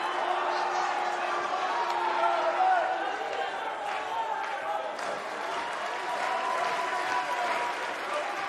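A crowd in the WWE 2K19 wrestling video game cheers and claps in a dense, continuous wash of noise that holds steady throughout, with a faint tonal element early on.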